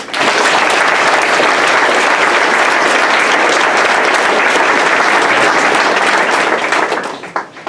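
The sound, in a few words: audience applause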